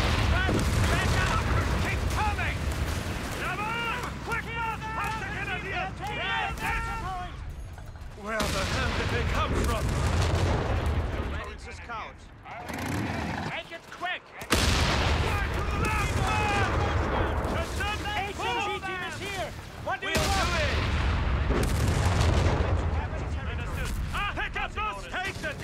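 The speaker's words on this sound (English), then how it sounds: "Those troopers are firing at us!" Gunfire and artillery in the World War II strategy game Company of Heroes 3: dense, continuous rattling fusillades and heavy booms fill the scene, broken by brief lulls, with shouted voices mixed in.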